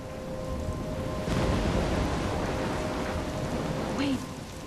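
Steady rain pours down through a stormy scene in the game Life Is Strange, with a swell of rolling thunder and a faint wind whistle under the downpour, no talking.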